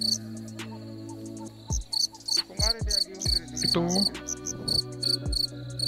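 Crickets chirp in a steady, high pulsing trill on a dark night outdoors, with a few other faint noises and a brief spoken word mixed in.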